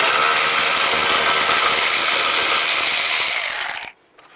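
A power ratchet or impact tool with a 10mm socket spins out a bolt on a 2010-2017 Chevrolet Equinox during transmission mount work, a loud continuous whirring burst that cuts off sharply near the end.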